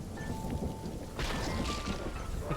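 Video game storm in Fortnite: steady rain hiss with low rumbling thunder throughout, swelling louder about halfway through, with faint tonal game sounds on top.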